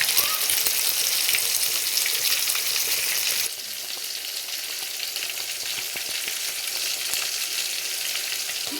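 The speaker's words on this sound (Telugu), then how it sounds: "నాకు చేపలు ఫ్రై అవుతూ ఉన్నాయి." Fish fries in a pan with a steady, dense sizzle that stays close and fairly loud, easing slightly after a few seconds but continuing without pause.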